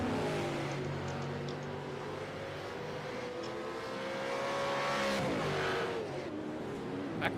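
Race cars roar along a track in a racing video game, engines droning steadily with rising and falling pitch as cars pass and shift, a continuous loud mechanical hum throughout.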